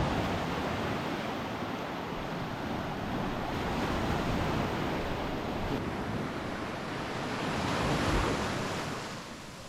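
Ocean surf rolling onto the sand at Bunkers Bay beach, a steady broadband wash of breaking waves with wind buffeting the microphone, loud and continuous throughout with no voices.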